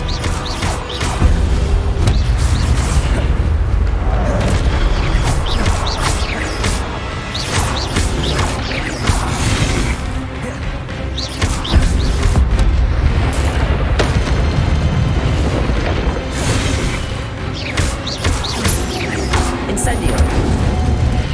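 Repeated spell blasts boom and crash through a Hogwarts Legacy duel, disarming and fire spells landing in a steady stream of heavy impacts over busy game noise, with a voice calling out now and then.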